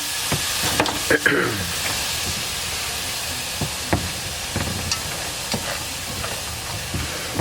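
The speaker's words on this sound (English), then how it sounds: "I'm going to start adding my beef stock because I want to kind of deglaze the pan" Beef stock poured into a hot pan to deglaze it for pepper steak, giving a steady close sizzle and hiss with scattered stirring scrapes and clinks.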